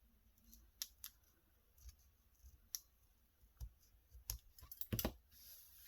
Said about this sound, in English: I'm going to cut off and round off the corners on this folded edge.